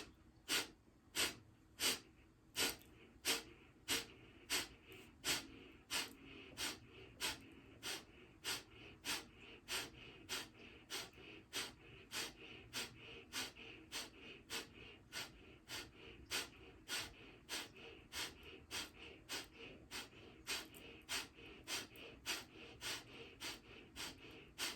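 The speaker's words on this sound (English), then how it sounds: "now to begin the Kapalbhati breath." Kapalbhati breathing exercise: a long, steady series of about thirty sharp, forceful nasal exhales at roughly one per second, close and fairly quiet, with no talking.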